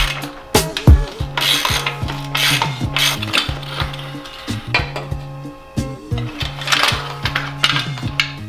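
Ratchet wrench working a tight nut loose during the teardown of a 17-year-old two-stroke engine, rapid clicking ratchet bursts in uneven runs with metallic clanks in between, close and loud.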